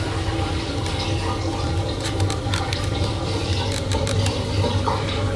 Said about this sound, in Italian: Sta scaricando l'acqua.